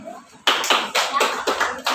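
A small group of classmates claps for two students in a classroom, bursts of handclaps starting after a short quiet pause and repeating in rhythmic groups, fairly close and moderately loud.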